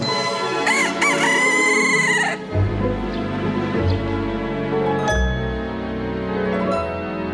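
A rooster kept on the grounds of a governor's mansion crows loudly and close, one long harmonic call, followed by quieter barnyard noise and shuffling.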